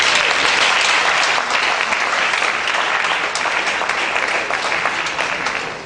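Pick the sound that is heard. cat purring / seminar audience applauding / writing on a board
seminar audience applauding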